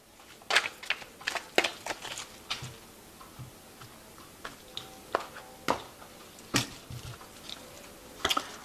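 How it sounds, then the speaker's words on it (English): Tarot cards riffle and snap in short bursts, a series of crisp flicks and taps with pauses between, close and fairly quiet. "I have shuffled this deck."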